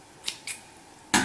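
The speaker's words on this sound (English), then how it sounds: "have sharp scissors. You need them sharp to make a clean cut." Sharp scissors snipping sewing thread up close, three short crisp clicks, the last one loudest, with no talking.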